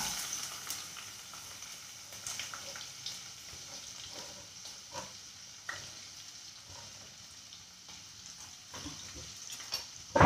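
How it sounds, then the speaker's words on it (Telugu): Onions frying in hot oil in a pan, a steady crackling sizzle with occasional stirring scrapes and small clicks throughout, close and moderately quiet. "ఆయిల్ వేడెక్కినాక ఆనియన్ వేయాలి"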